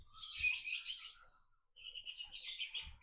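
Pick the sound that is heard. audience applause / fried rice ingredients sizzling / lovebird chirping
lovebird chirping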